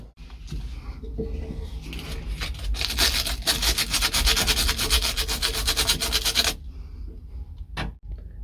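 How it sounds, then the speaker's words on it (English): A battery cable terminal on an old tractor is rubbed with sandpaper in dense, close scratching strokes that build louder midway, then stop, followed by a brief knock near the end. "Now that cable is looking probably about as good as I can make it with a little bit of sandpaper"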